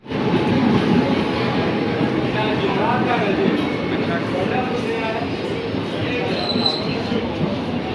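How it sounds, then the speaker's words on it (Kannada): Moving passenger train between Tumkur and Bijapur, heard from inside as a loud, continuous rattling and shaking roar with dense clatter that fills the whole stretch. "train shake ಆಗ್ತಿರೋದಕ್ಕೆ, train ಅಳ್ಳಾಡ್ತಿರೋದಕ್ಕೆ"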